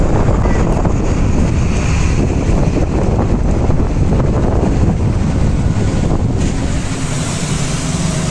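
Steady, loud wind rushes across the microphone outdoors, a dense broadband roar that holds constant without pause, while faint voices sit low in the background.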